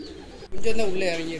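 Pigeons cooing inside a colony breeding cage, a soft low warbling coo rising after a brief pause and continuing steadily up close, with some background chatter.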